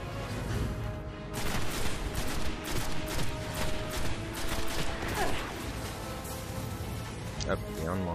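Automatic weapon fire in the Destiny video game, a dense run of rapid gunshots lasting several seconds with game effects and a voice talking over the shooting.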